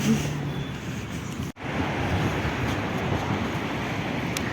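Steady wind buffeting the microphone in a broad, continuous rush, with a brief dropout partway through.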